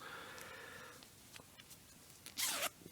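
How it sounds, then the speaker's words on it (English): A plastic zipper on a Czech field shirt is pulled in a quick, close rasping burst near the end, after soft scattered rustling and handling noises. "Plasticized zipper. It goes all the way up to the top of the collar"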